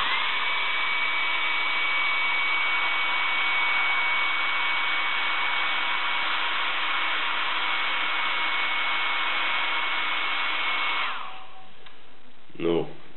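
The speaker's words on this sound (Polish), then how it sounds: "Ją wysusza i to, żeby to było prędzej, posusza się suszarką." A hair dryer blows steadily and loud on a blown-out eggshell for about eleven seconds, then switches off, leaving a brief quiet with a small clatter.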